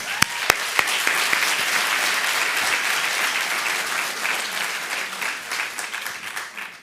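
An audience at a School of Dentistry declaration ceremony breaks into sustained applause, a few sharp, close claps at the start over a broad, even wash of clapping that gradually softens.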